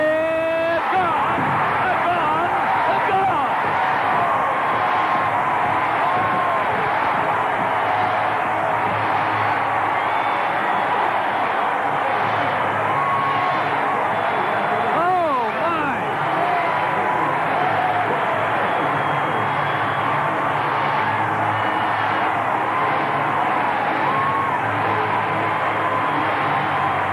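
A stadium crowd at a 1997 Mets at Astros baseball game roars in a sustained, loud standing ovation after a home run, a continuous wall of cheering with a voice talking over it.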